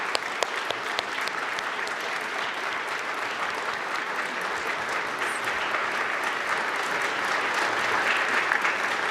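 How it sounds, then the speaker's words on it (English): A conference audience at the Justice Department National Opioid Crisis Summit claps in a dense, sustained round of applause that holds steady for several seconds with no voices over it. "we'd like to give them a round of applause"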